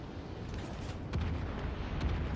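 Italian cruiser Montecuccoli in World of Warships firing HE rounds, a deep rumbling cannon boom with a heavier thump a second in, loud and close, with no talk.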